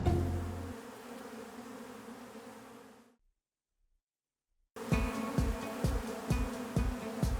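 A steady, dense buzzing of many honey bees in an old shed fills the air, cutting out abruptly for a moment before returning loud and close.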